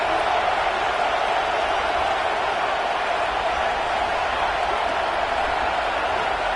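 Stadium crowd noise in the NCAA 26 college football video game, a dense, steady roar that holds at full level throughout without breaks, with no distinct voices standing out.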